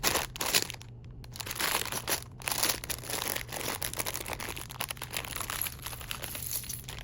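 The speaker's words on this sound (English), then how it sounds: "part of this video is going to be ASMR, just you watching me put it together" Small plastic LEGO pieces from a taxi set rustle, crinkle and click as they are handled and pressed together up close, a steady run of soft crackling with a few sharper snaps and no talking.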